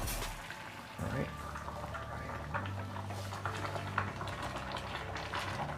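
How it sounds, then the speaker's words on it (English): Water boiling in a pot for spaghetti gives a steady bubbling, hissing rumble at moderate level for several seconds, with faint kitchen clatter and no clear talk. "Next, water is boiling."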